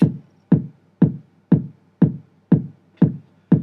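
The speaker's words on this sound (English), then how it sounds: "And that's our 4 on the floor kick drum pattern." A four-on-the-floor kick drum pattern programmed in Logic for a house beat: eight evenly spaced, punchy low thumps at a steady tempo, each decaying quickly, alone and up close.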